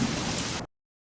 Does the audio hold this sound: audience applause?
no